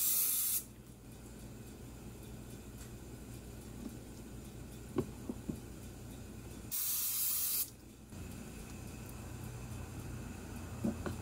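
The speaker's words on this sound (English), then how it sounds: "I got this awesome coconut spray from Aldi." An aerosol can of coconut cooking oil spray from Aldi is sprayed into cupcake liners in a kitchen, giving two loud hissing bursts, a short one at the start and a longer one later, over faint background noise.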